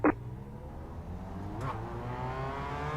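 A race car in the iRacing video game revs its engine at the race start, a steady droning engine tone with rising harmonics, a short sharp click at the onset and a swell in pitch partway through.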